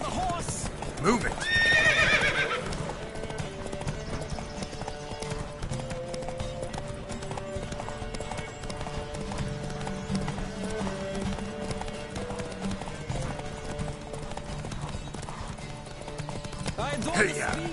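Horses galloping in a race in The Witcher 3 video game, continuous clip-clop hoofbeats with a neigh near the start, under music and voices.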